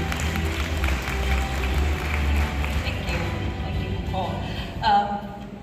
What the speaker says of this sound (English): A big round of applause for Kun Montakarn Kittpaisalsilp.